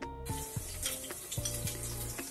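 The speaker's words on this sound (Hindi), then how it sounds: "यहाँ पे मैंने डाला है अभी तेज पत्ता और जीरा" Bay leaves and cumin seeds sizzling in a hot pan for a rice-and-peas lunch dish, a steady close crackle with a few brief tonal clinks from the pan and no talking.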